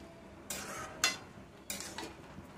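A spoon stirs lauki moong dal in a metal pot, giving three or four distinct scraping clinks against the pot with a soft sizzle between them, close and fairly quiet, with no talking.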